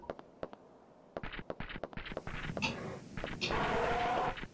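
Solid cannon shots ring out in the PS1 game Dino Crisis 2, a series of sharp percussive blasts in quick succession, followed by a louder, denser burst of explosive noise that builds toward the end.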